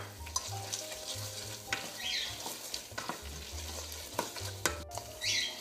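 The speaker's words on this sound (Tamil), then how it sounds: "கைவிடாமல் கிண்டிக்கொண்டே இருக்க வேண்டும்" Wheat halwa stirred continuously in a pan, a thick sticky sizzle with repeated scraping strokes and occasional spoon knocks against the metal, steady and close.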